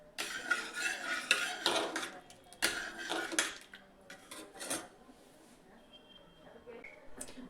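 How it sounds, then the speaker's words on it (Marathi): A spoon stirs cooked moong dal thinned with warm water in a pot, giving scraping clinks and clattering bursts for a few seconds before fading to quieter rubbing. "आणि याला चमच्याने चांगलं मिक्स करून घ्यायचं"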